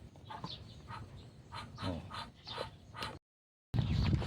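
A dog whimpers and whines in a series of short, high, nasal cries, close by, followed by a brief silence and rustling noise.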